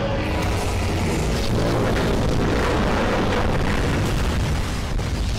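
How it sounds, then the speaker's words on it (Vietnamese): Continuous dense rumble of booms and bursts, rapid cartoon gunfire from an eight-barrel gun mixed with explosions, loud and unbroken throughout. "chúng có súng 8 nòng luôn đó các bạn"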